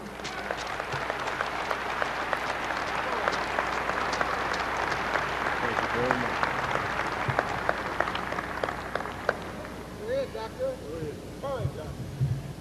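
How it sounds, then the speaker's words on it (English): Audience applause welcoming Dr. James Tate at a Nation of Islam gathering, dense sustained clapping filling the hall before thinning out, with voices rising near the end. "I want you to receive him with a warm round of applause, Dr. James Tate."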